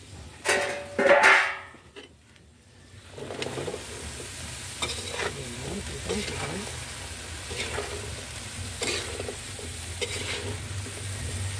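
Fresh pinakbet vegetables tipped into a hot pan with oyster sauce, a clattering drop followed by steady close stir-fry sizzling and occasional utensil scrapes.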